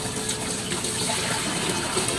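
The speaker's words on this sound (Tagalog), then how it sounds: "drain natin yung lumang tubig para palitan bago" Old, darkened water is drained from a container of tubifex worms, a continuous loud gushing pour that runs steadily with no break.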